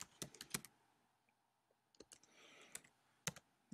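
Computer keyboard typing comes in short bursts of crisp key clicks with pauses between them, quiet and close in an otherwise still room.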